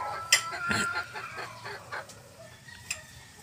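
An SBR chicken clucks in short, faint bursts, a few soft scattered clucks close by over quiet background.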